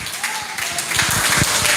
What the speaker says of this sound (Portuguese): Louve a Jesus com as suas palmas.